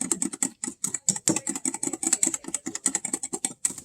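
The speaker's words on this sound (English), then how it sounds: "Use a wire whisk to do it. And you just whisk it for 2 minutes to get it nice and thick." A wire whisk beats a banana mixture in a bowl, giving a fast, steady run of close, bright metallic clicks and taps against the bowl with no talking.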